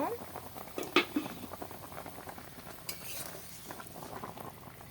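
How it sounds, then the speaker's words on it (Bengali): Fish simmers in a pan just uncovered, with a soft bubbling sizzle and a few clinks of utensils near the start, fairly quiet throughout. "মাছ রান্না হতে থাক"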